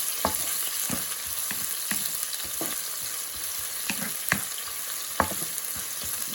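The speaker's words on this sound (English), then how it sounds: "Then you add the onions, and you don't need to brown the onions, just so they are little translucent" Onions fry in a pan for a vegetarian samosa filling, giving a steady close sizzle broken by sharp scrapes and taps of stirring every second or so, with no talking.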